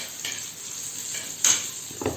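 Garlic and green chili frying in a pan, with a steady faint sizzle running throughout, a brief brighter burst of spattering midway and a soft clink of a utensil near the end.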